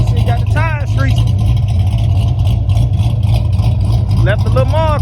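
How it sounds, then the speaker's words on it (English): Close, heavy engine rumble from a car with a Blueprint exhaust and roughly 560 lb-ft of torque, a continuous low drone throughout with people talking over it and no distinct tire squeal. "We got the tires screeching."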